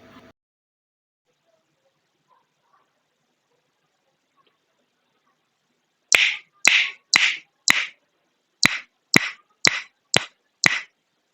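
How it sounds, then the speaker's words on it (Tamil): Nine crisp finger snaps from a recording, played back after several seconds of near silence and coming in a steady, slightly uneven rhythm. "சொடக்கு போட்டு காட்டிடுறேன்"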